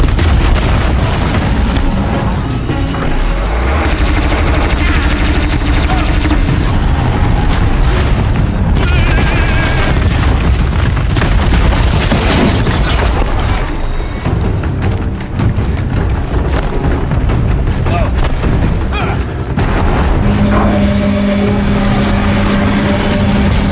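Horizon Zero Dawn disc launcher firing and exploding: heavy booms and blasts keep coming over a constant loud rumble of game action, with no quiet gaps.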